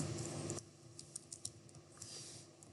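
Keystrokes on a computer keyboard as code is typed into a Python editor on a Windows PC, a handful of light, separate clicks in short bursts over faint background hiss.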